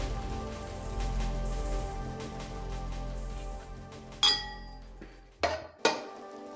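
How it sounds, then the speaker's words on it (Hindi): Crushed cardamom pods fry in ghee for makhandi halwa, giving a steady close sizzle for several seconds, then a few sharp metallic clinks of a utensil against the pan near the end. "ये थोड़ा सा आपने इलायची को घी में थोड़ा सा इसको फ्राई कर लेना है ताकि इसकी थोड़ी सी खुशबू आने लग जाए"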